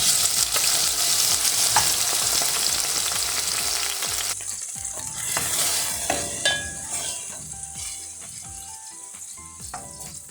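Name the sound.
fish fillet frying in pan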